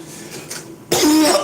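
A person lets out a single loud, harsh, chesty cough close to the microphone, following a short stretch of quieter background sound.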